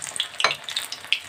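Batter-coated paneer cubes fry in hot oil, giving close, busy crackling and sizzling with quick sharp pops and no talk.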